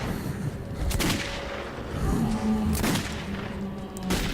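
Gunfire rings out in the video game Metro 2033 during a fight against watchmen, with several sharp shot bursts over a constant dense rumble of in-game ambience.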